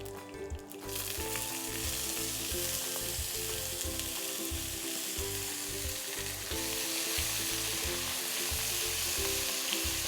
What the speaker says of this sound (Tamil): இது கொஞ்சம் பொரிஞ்சு வந்தோடனே நம்ம ஏற்கனவே பிளான்ச் பண்ணி வச்சுருக்கிற கொத்தவரங்காய்